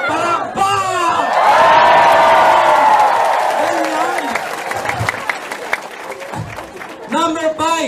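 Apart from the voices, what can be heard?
audience applause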